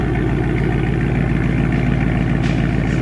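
A 2020 Dodge Charger Scat Pack idles steadily up close, its deep, even rumble continuous and alone with no voices.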